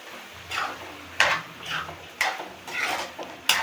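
Ground spice powder being stirred into mutton chukka in a pan, with a spoon scraping and clinking against the metal in several separate strokes, close and moderately loud.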